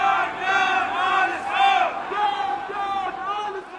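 A crowd at an opposition sit-in in Berlin chants slogans in loud, rhythmic unison, with voices rising and falling in repeated phrases and no single speaker standing out.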